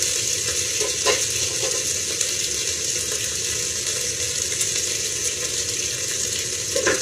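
Garlic paste frying with semi-browned onions in a pan, a steady broad sizzle that holds close and continuous throughout with faint clinks and stirring, no talk.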